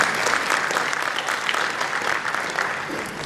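A conference audience at a plenary session breaks into sustained applause, a dense, even wash of clapping that holds steady for a few seconds without speech.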